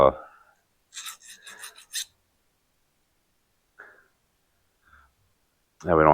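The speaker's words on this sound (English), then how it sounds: "that's just a slight bevel I'm putting on, taking off a burr" A metal edge is filed to a slight bevel to take off a burr while restoring a 1945 International K3 truck, giving short rasping strokes in bursts between quiet gaps, close by.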